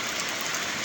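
Steady typhoon rain falls without wind in a rural province, a dense, even hiss of drops on surfaces that holds at a constant level throughout.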